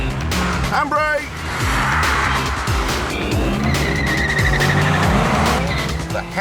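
Car skidding through a handbrake turn with tires squealing over a loud, revving engine near 6,000 RPM, continuous and close, with a voice shouting briefly under the noise.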